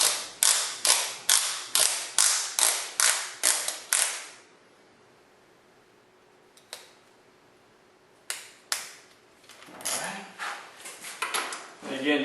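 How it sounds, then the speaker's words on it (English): A torque wrench for a Yamaha WR250X front wheel is set with a rapid run of sharp ratcheting clicks, then quiet, then a few more clicks and faint handling noise. "Which I'll go ahead and get my torque wrench out here and set it to 46 foot-pounds."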